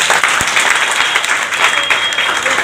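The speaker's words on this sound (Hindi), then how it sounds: "इसलिए सब एक बार आशीर्वाद से उनको ताली बजाते हैं।" A crowd claps steadily and loudly at the inauguration of a ward election office for a BJP candidate, dense continuous applause close by.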